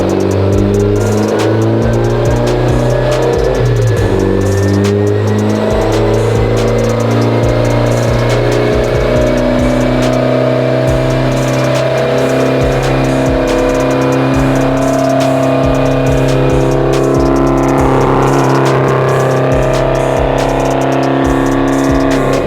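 A tuned Mitsubishi Evo X engine revs on a dyno during a pull on wastegate boost alone, a loud sustained drone rising slowly in pitch, with no talking.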